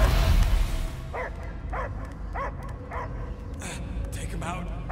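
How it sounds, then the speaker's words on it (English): A dog barks in a string of sharp, evenly spaced yips and barks that follow a loud rumble at the start, set against steady background noise. "I hear only barking"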